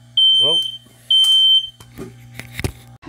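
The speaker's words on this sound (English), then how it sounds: "That was my smoke alarm." Two loud, sustained high-pitched smoke alarm beeps sound close by, each about half a second long, followed by a brief spoken exclamation and some clattering.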